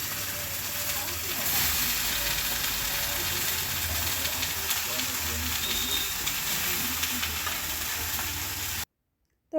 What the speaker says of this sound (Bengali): তো ভেজে নিচ্ছ?